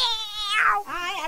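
A person's voice imitates a cat meowing, giving a couple of drawn-out, wavering meows close up with no other sound around them.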